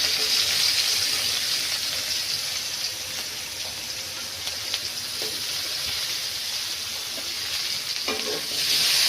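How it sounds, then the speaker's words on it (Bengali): Onion and garlic fry with kalonji in a pan, giving a continuous close sizzle with light stirring clicks and occasional scrapes, no voices. "কালি জিরা সম্বাস দিছি, আর এখন পেঁয়াজ আর রসুন দেব"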